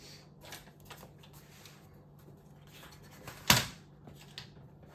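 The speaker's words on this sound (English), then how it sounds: "I'm just going to cut a piece of this with my paper trimmer." A paper trimmer cuts a piece of paper: quiet handling rustles lead up to one sharp, close slicing snap, then soft paper movement settles.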